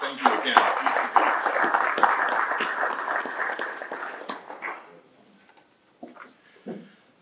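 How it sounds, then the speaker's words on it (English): Warm applause from the audience at an annual meeting, a dense spread of clapping that thins and fades out after about five seconds, followed by a few scattered sounds and a brief voice. "certainly a round of applause is due for all of that effort"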